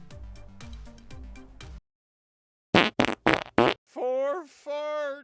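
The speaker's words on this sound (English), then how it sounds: "the fart rating." A comedic fart sound effect used as a rating gag in a stereo ribbon microphone review: a droning buzz, a pause, then several short sharp blasts and a rising, wobbling squeal, loud and alone.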